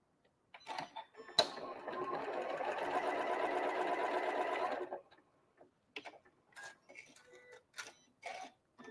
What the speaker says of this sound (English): I'm going to go ahead and sew directly on that line